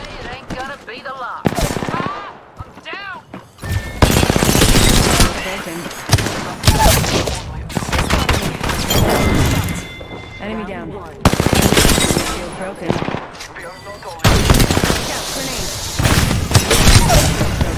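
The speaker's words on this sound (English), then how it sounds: "Being shot at." Bursts of automatic weapon fire in Apex Legends rattle in loud, rapid volleys separated by brief lulls, with a few heavy booms and in-game voice callouts between the shooting.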